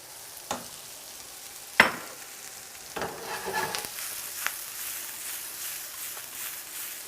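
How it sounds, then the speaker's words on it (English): Mushrooms sautéing in a pan for venison stroganoff, a quiet continuous sizzle broken by a few sharp clicks and brief bursts of utensil scraping, no talking. "You're going to saute these mushrooms until they're fully cooked."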